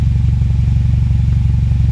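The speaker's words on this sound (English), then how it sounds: "Let's go and have a little listen to the exhaust." A car exhaust on SU carburettors idles loudly up close with a steady, even, low rhythmic burble.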